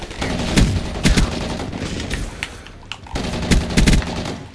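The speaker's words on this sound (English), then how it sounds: "this is LMG, man" A light machine gun fires in Black Ops 3, loud and close, in sustained rattling bursts with brief gaps, the strongest volleys near the start and end.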